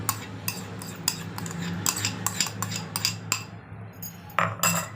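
Russian salad dressed with cream and seasoned with sugar, salt and black pepper, being mixed in a bowl: a spoon scrapes and clinks sharply against the bowl in an uneven rhythm, close and clear, with no talking.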